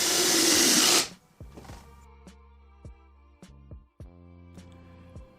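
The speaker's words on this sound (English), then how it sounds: "screw it in place before screwing down the rest" A power drill driving screws to fix plywood onto a side beam for a bicycle camper frame: a loud hiss burst at first, then several short whirring bursts of the motor spinning up and down in quick succession.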